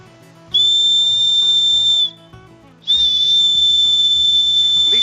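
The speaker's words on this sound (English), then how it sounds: "this one has a striker that also has an emergency whistle" Emergency whistle built into a fire steel striker, blown twice: two loud, piercing, steady high blasts, the first about one and a half seconds, the second longer after a short pause.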